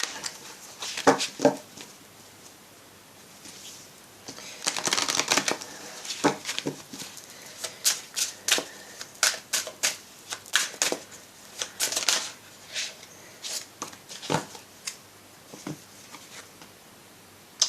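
Oracle cards being shuffled by hand, a close run of quick papery riffles and snaps in irregular bursts, loud at times and then softer, with no talk over them.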